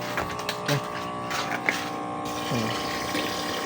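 Water pumped into a home aquarium during a water change, a steady low pump hum and running-water wash with a few small splashes and gurgles, close and continuous throughout.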